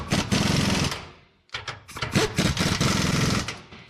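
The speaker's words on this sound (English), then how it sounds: "We'll have to tighten those up as well." Power tool tightening bolts on a Saturn car, a loud dense rattling burst, a brief pause, then another long run of rapid impact-like hammering, close by with no talk.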